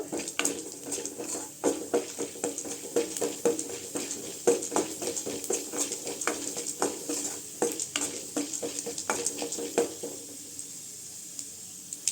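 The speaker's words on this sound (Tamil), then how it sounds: "கடலைப்பருப்பு சேர்த்துக்கலாங்க. நல்லா செவந்து வரணும் கடலைப்பருப்பு." Chana dal roasting and being stirred in a pan for coriander chutney: a steady close sizzle broken by frequent scraping, clattering stirs that go on without a pause, with no talking.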